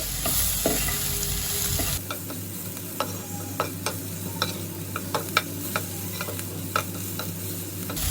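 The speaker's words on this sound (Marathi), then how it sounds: "सर्वांना एकदम चांगलं मी परतून घेते" Coarsely ground ginger and green chilli paste frying in hot oil, a steady sizzle broken by scattered clicks and scrapes of a spoon stirring in the pan, with louder frying at the very start.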